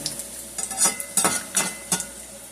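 Food fries in a pan with a sizzle beneath a run of close, sharp spatula scrapes and presses, roughly five distinct strokes spaced about half a second apart.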